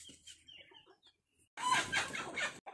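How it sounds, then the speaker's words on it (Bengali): A hen clucks in a short burst of loud, close calls after a quieter stretch of faint background sounds, caught while being trapped near a coop. "এখন একটা মুরগি এসেছে"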